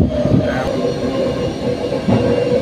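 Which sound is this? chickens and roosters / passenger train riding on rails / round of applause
passenger train riding on rails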